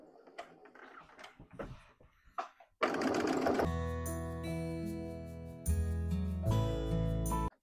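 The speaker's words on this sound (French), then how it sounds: "je vais venir coudre à 1 cm" A sewing machine stitches a thick wallet seam at a 3 mm stitch length, 1 cm from the edge, running in a loud, steady mechanical whir that starts after some quieter handling noises and continues with slight speed changes.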